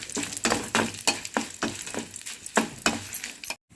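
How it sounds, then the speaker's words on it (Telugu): Curry leaves stirred into a hot frying pan: rhythmic scraping strokes about every third of a second over a crackling sizzle, ending in an abrupt cutoff. "కరేపాకు అన్నీ వేసుకొని బాగా కలుపుకోవాలి"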